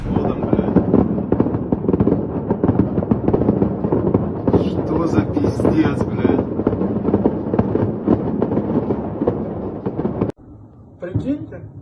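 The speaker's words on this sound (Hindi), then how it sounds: "उस इलाके में पटाखों से खुशियां वैगनर ग्रुप ने मनाई है" A dense barrage of fireworks and firecrackers crackling and popping continuously, loud and rapid, with a few sharper bangs near the end.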